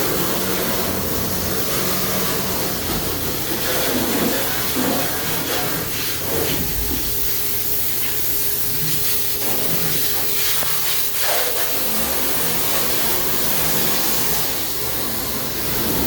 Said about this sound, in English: you can spray down all the surfaces